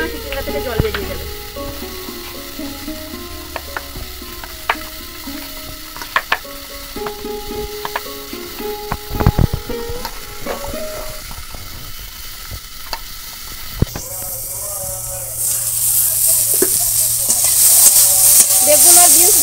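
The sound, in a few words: eggplant and beans frying in oil in a wok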